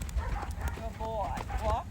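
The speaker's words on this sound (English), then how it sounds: "Now this is a good canter." A gaited horse's hooves beat out a slow, collected canter in a quick repeating rhythm, heard close under a rider's voice giving commands and comments.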